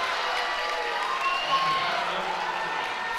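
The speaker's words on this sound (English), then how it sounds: "the crowd is getting more and more into the game" High school basketball crowd at a Colonial League boys semi-final between Saucon Valley and Palmerton gives a steady, broad roar of cheering from the stands, spread evenly through the gym with no sharp peaks.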